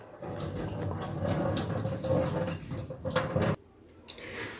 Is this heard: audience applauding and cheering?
no